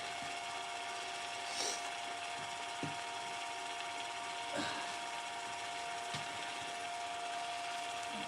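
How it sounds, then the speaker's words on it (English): Hand wet sanding makes a steady gritty hiss under a constant electrical hum, with a few soft thumps and scrapes spaced irregularly, fairly close but not loud. "now it's time to wet sand"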